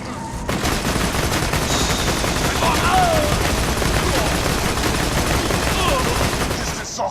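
Continuous rapid gunfire while shooting an enemy in a video game, a loud dense stream of shots that runs almost unbroken from start to finish.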